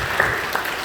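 Brief burst of congregation applause in a Korean church worship service, a dense wash of clapping heard for under a second.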